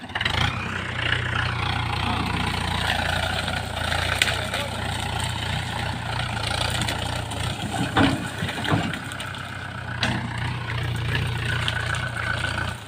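A tractor engine idles on a farm with a drip irrigation setup, giving a steady, continuous low rumble that stays close and fairly loud throughout, with a few faint clanks over it.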